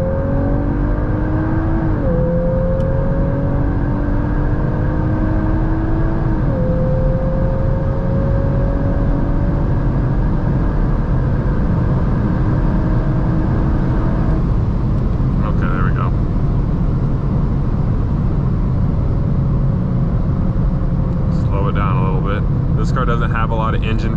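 A car accelerating hard toward 130 on the road, engine whine climbing in pitch through several gear shifts, with a rough shift partway through, under steady road and wind roar while a driver talks.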